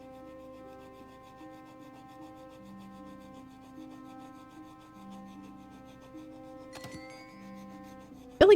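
Chisel scraping at a surface in the Murder She Wrote 2 video game, a soft, steady rubbing that runs under continuous background music and ends in a brief louder burst.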